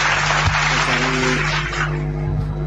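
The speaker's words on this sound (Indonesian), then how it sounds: "Tepuk tangan lagi kalau gitu." Audience applause at a live debate gathering, a dense broadband patter of clapping filling the short stretch steadily, with a low steady hum running underneath.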